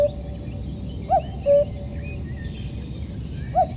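A cuckoo calls in mid-April spring at Rye Harbour Nature Reserve, its two-note calls repeating a few times at moderate distance over a steady background hiss, with no one talking.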